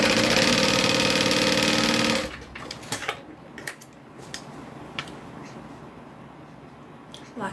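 A domestic sewing machine runs steadily for about two seconds with a fast, even whir while installing a zipper, then stops, leaving only scattered small clicks and clatter.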